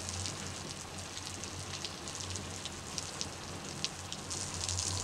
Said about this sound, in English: So obviously we're dealing with a big downpour here. It's significant downpour.